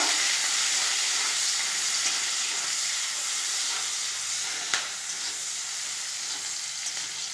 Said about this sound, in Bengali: এবার দেবো পেঁয়াজ, ভালো করে নেড়ে নেব।